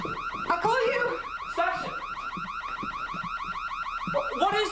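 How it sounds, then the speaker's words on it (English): An electronic alarm sounds loud and close, a rapid warbling tone that repeats steadily for the whole stretch, with no voices over it. "Is that an alarm?"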